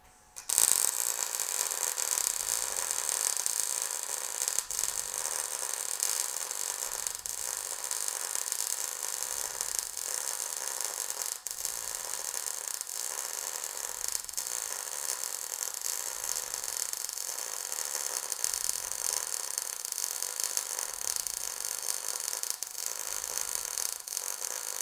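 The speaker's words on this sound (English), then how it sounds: "now I'm going to do a push weld now" A Harbor Freight Titanium Unlimited 200 welder lays a push fillet weld. It makes a steady, crackling, hissing buzz that carries on for the whole stretch, close up, with faint periodic pulses and no talking.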